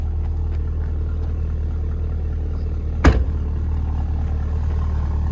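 A 2026 Cadillac CT5-V Blackwing exhaust gives a steady, deep idling rumble close by, broken once midway by a brief sharp click.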